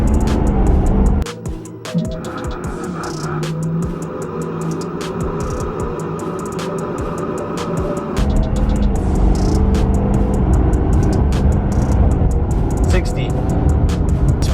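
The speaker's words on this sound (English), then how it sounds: "let's see how fast we can do a 0 to 60" A 2018 Ford F250 pickup with a 6.7 diesel pulls hard from a standstill toward 60 mph, its loud, steady engine roar building and holding from inside the cab, with people's voices and cheering over it.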